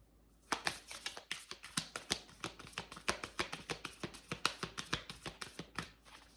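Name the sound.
shuffling tarot cards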